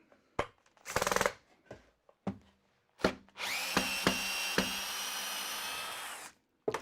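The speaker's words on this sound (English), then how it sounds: "So I'm going to back that screw out and put a shorter one in." A power drill whirs steadily for about three seconds as it backs a screw out of split wood on a tablesaw infeed support, preceded by scattered knocks and handling clatter in a workshop.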